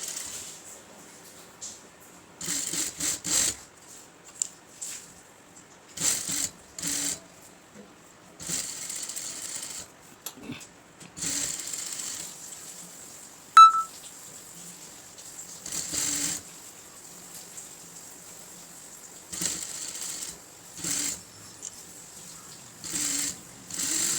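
A sewing machine runs a finishing stitch over the lining of an aari-work blouse in repeated short bursts of rapid whirring, with quiet pauses between runs.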